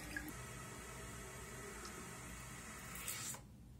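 Water refilling a toilet cistern through a newly fitted fill valve, a steady broadband hiss and trickle that runs continuously before cutting off near the end.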